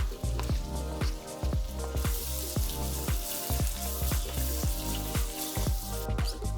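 Chopped onions and green chilies fry in a pan of hot oil with popped mustard and cumin seeds for a potato chicken curry. A steady, close sizzle is punctuated by regular crackling pops.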